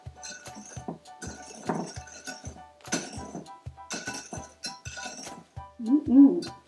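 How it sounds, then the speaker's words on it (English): Lemon zest and sugar mixture is stirred in a bowl for brownies, with a spoon clinking repeatedly against the bowl in quick irregular taps, close and fairly clear, ending in a brief louder scrape. "Stir these together until they're well combined."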